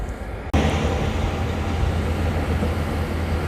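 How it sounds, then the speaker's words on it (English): A water pump running beside a battered bridge, a steady loud mechanical drone with a low hum that starts suddenly and continues without a break. "someone has a pump who's pumping up the water"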